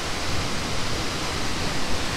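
Panther Creek Falls, a mossy waterfall in Washington, roars as a steady, dense broadband rush of falling water, continuous and fairly loud with no voices over it.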